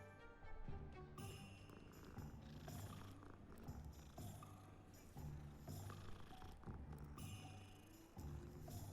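Steady purring from a cat in Hogwarts Legacy, a soft continuous rumble under bright game music that swells and shifts throughout, with no talking.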